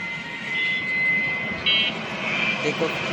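A Gulf Air airliner landing at an airport, its jet engines roaring in a steady, moderately distant drone with a faint whine, while someone talks over it.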